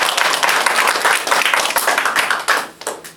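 A church congregation applauds together after a Korean sermon: dense, close, steady clapping that fills the room for about three seconds and thins slightly toward the end, with no talking over it.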